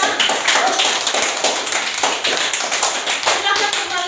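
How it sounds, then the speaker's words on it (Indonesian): A classroom of students claps for one group of classmates, giving brisk, fairly close applause with some voices mixed in. "kasih tepuk tangan dulu untuk kelompok yang ini"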